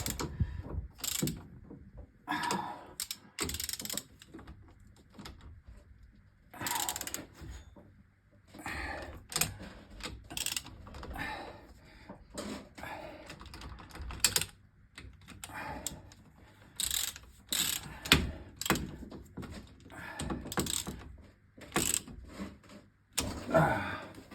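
A ratchet tightens bolts around the ring on a Ford Zephyr hot rod, close rapid clicking bursts repeating in short runs with brief pauses between bolts.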